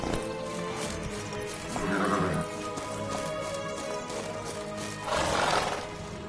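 A horse in The Witcher 3 video game, heard in the Toussaint region, clip-clops steadily at a walk with two clear neighs, loud and close over a continuous ambient bed.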